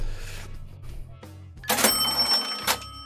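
Cash register sound effect from the video game Series Makers Tycoon: soft clicks and tones give way to a bright, loud ka-ching ring with a chiming tail and a second ring, over a low game music bed.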